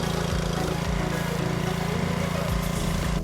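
Craftsman R140 riding lawn mower engine running steadily at close range, a loud continuous droning rumble with no talk over it.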